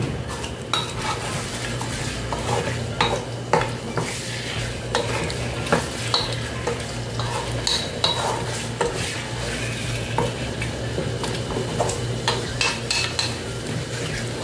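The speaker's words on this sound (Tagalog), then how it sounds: "Haluin natin hanggang sa masunod yung lasa ng ating patis." Chicken with fish sauce and ampalaya being stirred in a frying pan, a utensil clinking and scraping against the metal in an uneven rhythm over a constant low sizzle, close up and without voices.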